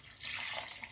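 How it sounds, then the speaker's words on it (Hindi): Two glasses of water are poured into a pot of fried potato and minced meat (aloo keema) while cooking, heard as a short, steady splashing rush of liquid at close range. "2 गिलास पानी डालूंगी"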